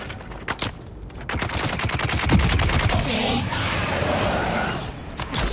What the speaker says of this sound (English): Here's the machine gunner.